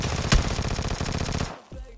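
Rapid automatic bursts from a Vector gun in a mobile battle royale game, a fast steady rattle of shots for about a second and a half before it cuts off, loud and close.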